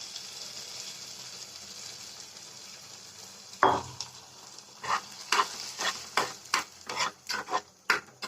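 Tempering poured into Kerala pumpkin erissery: a steady sizzle, then a sharp burst as it hits, followed by a run of regular stirring scrapes and clatters against the pot, close up and without talk.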